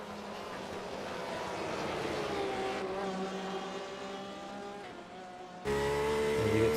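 Sim racing video game cars, a Porsche among them, at Road America, with sustained engine whine and shifting pitch from several cars, a sharper louder engine note cutting in near the end.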